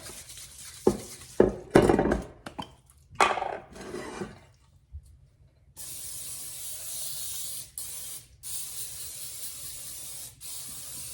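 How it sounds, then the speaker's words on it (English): Several short hissing bursts of cooking spray coating a 9x13 baking pan, close by, in quick irregular succession, followed by a quieter steady hiss with brief breaks. "we're gonna take a pan, a 9x13, we're gonna spray it."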